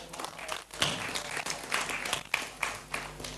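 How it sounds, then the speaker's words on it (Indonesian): A studio audience applauds at a televised regional talk show about small and medium businesses in Madiun, a steady wash of many hands clapping, moderately close and continuous with no voices over it. "sekali lagi kita berikan tepuk tangan"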